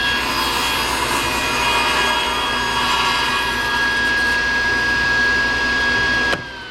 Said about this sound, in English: When you're done cutting your piece of wood, make sure you push the wood and the miter gauge past the blade